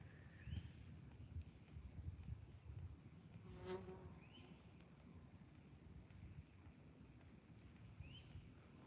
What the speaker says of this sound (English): Screw off, you damn hornet.